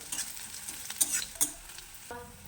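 Banana flower chop mixture with ginger paste frying and being stirred in a pan, a steady sizzle broken by a few scraping stirs and light utensil clinks, close and moderately quiet, with no voices.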